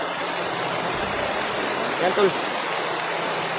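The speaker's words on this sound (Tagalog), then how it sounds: "Malakas na yung ulan ba?" Heavy rain pouring steadily as a broad, even hiss throughout, with a voice speaking briefly in the middle.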